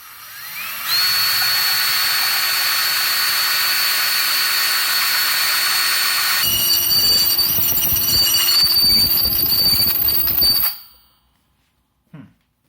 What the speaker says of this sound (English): So I'm going to just use the hole there and kind of drill it bigger.